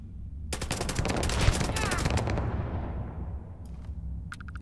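Gunfire in the Starfield video game: a rapid, loud automatic burst rattles off for about two seconds and trails into a fading echo. A few shorter, fainter volleys follow near the end.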